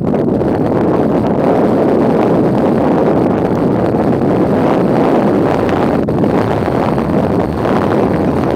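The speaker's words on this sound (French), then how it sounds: "ce petit vent frais." Steady, cool light wind rushing across the microphone on an open hilltop, a constant broadband roar with slight gusty swells and no voices.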